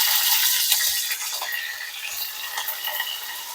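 Cumin and curry leaves crackling in hot oil for kadhi, a bright, hissing sizzle with scattered pops that eases slightly after the first second, close and alone without talk.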